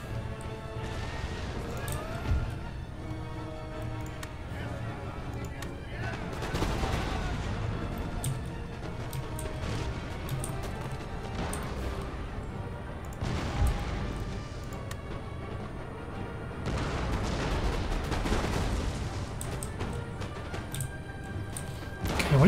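Cannon artillery fire from a Russian army in the strategy game Empire Total War, a dense battle soundscape of repeated booming volleys and crashes over a continuous rumbling background, loud and sustained throughout.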